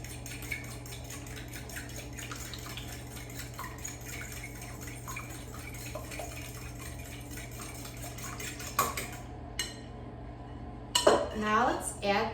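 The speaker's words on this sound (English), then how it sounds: "let's whisk the eggs with a fork." Fork whisking eggs in a bowl, a steady rapid clinking of metal against the dish under a constant background hum, with a few louder knocks near the end.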